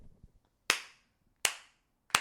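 Three slow, deliberate hand claps ring out close and loud, spaced roughly three-quarters of a second apart, each a sharp smack that fades quickly into quiet.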